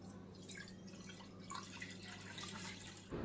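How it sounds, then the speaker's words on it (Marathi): Water gently poured off settled wheat starch in a container, a soft steady trickle and dripping, close and quiet, with no voices. "वरचं पाणी सगळं ओतून काढायचा आहे"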